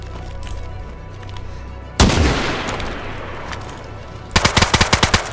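Gunfire in the video game DayZ: a sudden loud blast that rings out into a long echoing decay, then a rapid burst of about eight close automatic shots.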